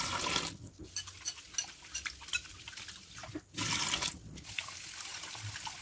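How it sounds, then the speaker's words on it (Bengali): Flattened rice (chira) is washed in water: close-up sloshing and trickling with irregular splashes and drips, and a couple of brief louder pours. No one speaks. "চিড়ার মধ্যে কিন্তু অনেক নোংরা জমে থাকে, তার জন্য এটাকে প্রায় 5 থেকে 6 বার ধুয়ে নেব।"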